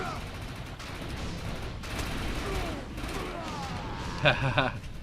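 Hellcat incendiary rocket launcher firing in a video game, a short cluster of rapid explosive bursts near the end, set against a constant loud game-noise bed with voices talking.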